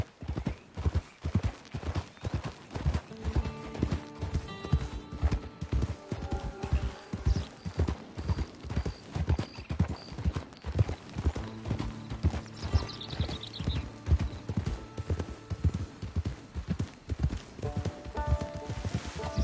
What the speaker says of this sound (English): Hitch your horse.